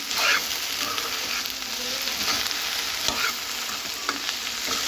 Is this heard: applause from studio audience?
no